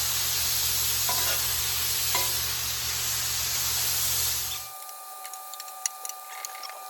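Cheesesteak meat sizzling loudly on a Masterbuilt Gravity Series 800 griddle, a steady close hiss with a couple of scraping flips, then the frying cuts out into quieter clinks.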